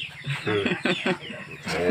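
Backyard chickens clucking while feeding on rice and pickled papaya; a few soft, close clucks and short calls in quick bursts, fairly quiet, with faint background noise.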